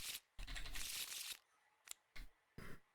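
Cards for the board game FITNA are shuffled at close range with a sustained riffling rustle, then a few short separate flicks and taps.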